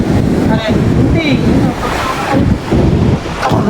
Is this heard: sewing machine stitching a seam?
no